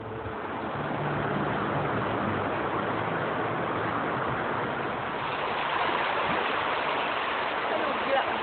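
A shallow, fast-flowing underground river in Ngerong cave rushes as a steady, loud broadband roar, with a voice briefly audible near the start.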